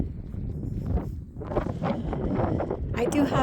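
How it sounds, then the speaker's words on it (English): Wind gusts roar and buffet an outdoor microphone, a steady rumbling rush that rises and falls over a few seconds. "Okay, I know it's going to get windy here"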